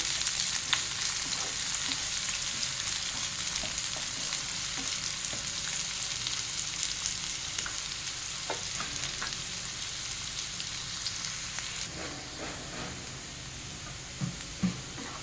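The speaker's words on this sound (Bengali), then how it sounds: "পেঁয়াজটাকে ভালো করে ভেজে নেব।" Chopped onions frying in hot oil with cumin, a steady bright sizzle with occasional spatula scrapes and stirs, close and continuous without any talking.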